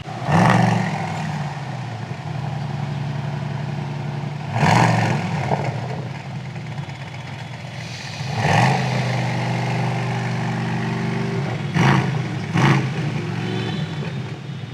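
A deep Aston Martin DBX707 V8 engine, butterfly valve open, revs hard several times in loud roaring bursts, settling into a throbbing idle between each blip.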